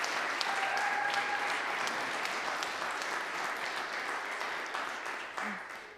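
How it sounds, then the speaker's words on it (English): A church congregation claps for a choir during Sunday worship, a dense, steady wash of applause that holds evenly for several seconds and tapers slightly at the end, with no speech over it. "choir applause"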